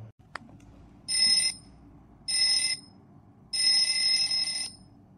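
An outgoing phone call ringing back through a handset, three electronic ring bursts separated by short silences, the last one longest, with a faint click at the start.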